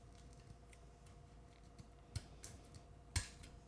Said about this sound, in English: we're going to cut off this piece right here where that